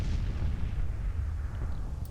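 Artillery fire in the Civil War strategy game Grand Tactician, heavy booming cannon reports rumbling and overlapping continuously, deep and loud, with no voices.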